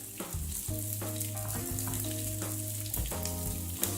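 Small pieces of sausage sauté in a pan for a tomato-sauce dish, giving a steady, dense sizzle and crackle that runs unbroken from start to finish, with a few brief scrapes or stirs mixed in.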